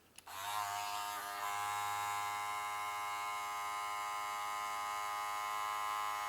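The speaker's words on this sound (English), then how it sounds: "I got a lot of Stylecraft clippers." Stylecraft electric hair clippers switch on after a brief click and run with a steady, close, loud buzz and whine that holds evenly to the end, with no talking.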